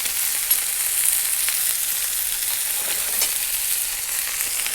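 Chicken hash sears in a hot cast iron pan, giving a steady, close hiss and crackle of frying with a few faint scrapes and pops, and no one speaking.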